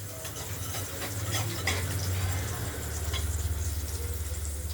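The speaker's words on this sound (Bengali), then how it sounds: "পনিরগুলোকে অল্প অল্প করে ভেজে নিচ্ছি।" Paneer pieces frying in a pan, a steady broad sizzle with low bubbling rumble running throughout at moderate level, no voices.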